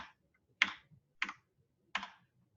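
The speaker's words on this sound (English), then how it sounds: "let me clear the screen by typing in clear." Keys on a computer keyboard are struck in three separate, crisp clicks with quiet gaps between them. The typing is close and soft, with no voices.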